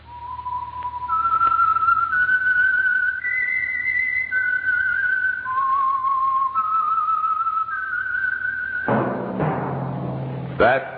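A person whistles a slow, clear melody of held notes, loud and close, ending with a short burst of other sounds.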